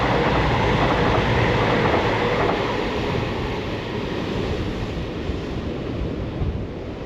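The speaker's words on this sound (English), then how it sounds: "This train is Aberdeen to Penzance, longest train route in the UK" Aberdeen to Penzance express passing along the sea wall at Dawlish in a storm, a steady loud rumble and roar of the moving train with wind buffeting, no talk.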